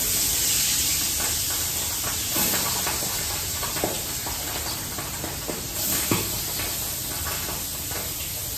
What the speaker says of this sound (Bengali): চার পিস করে ভাজবো।